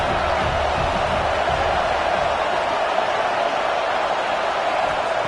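Football stadium crowd at an FSU versus Alabama game roars in a constant, loud, dense wash of noise, steady throughout with no clear individual voices.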